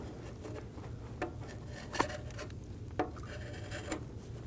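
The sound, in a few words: scraper cleaning intake manifold gasket mating surface, Scion xB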